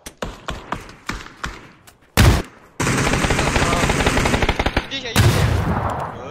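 Gunfire from a first-person shooter video game: a rapid run of sharp shots, then loud sustained automatic bursts, close and dense, with excited players talking over the action.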